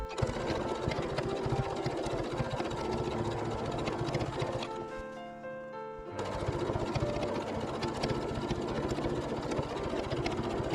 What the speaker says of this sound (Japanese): 口のところを端ミシンかけます